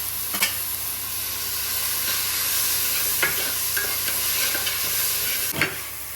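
Tomatoes sizzle in a pan of chicken sukka as a spoon stirs them, a steady broadband frying hiss with a few sharper scraping strokes, close and fairly loud with no talk.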